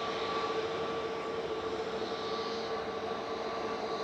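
Airbus A320neo jet on departure, a steady broadband engine roar with tonal whine holding constant throughout, moderately distant and heard alone outdoors.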